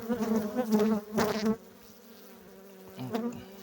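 Honey bees buzz loudly during a spring hive inspection, a dense close drone with bursts of louder humming early on, then softer, steadier buzzing.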